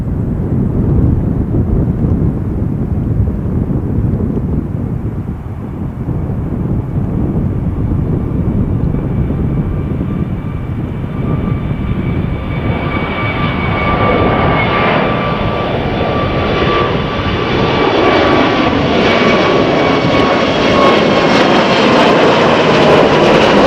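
A JetStar jet airliner takes off, its engine roar loud and steady throughout, swelling with a rising whine and a deep rumble as the aircraft passes.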